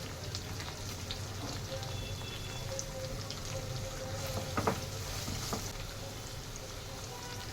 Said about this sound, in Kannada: ಚೆನ್ನಾಗಿ ಗೋಲ್ಡನ್ ಕಲರ್ ಬರೋವರೆಗೂ ಚೆನ್ನಾಗಿ ನಿಧಾನವಾಗಿ ಫ್ರೈ ಮಾಡ್ಕೊಳ್ಳಿ.